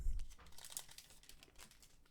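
A One Piece trading card pack being cut open with scissors: close, crisp crinkling and tearing of the foil wrapper, with a sharper snip near the middle, fairly quiet and without talk.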